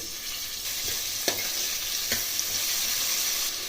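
Drumsticks and tomato pieces frying in a pan for a ridge gourd curd curry give a steady close hiss, with a couple of brief scrapes from stirring and no one speaking.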